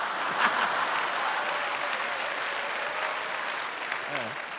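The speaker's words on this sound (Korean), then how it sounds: "이런 일에 박수 치지 마세요" Church congregation clapping during a Korean missionary's sermon, a steady wash of applause from a sizable crowd that fills the whole moment at moderate loudness, with a voice briefly audible beneath it.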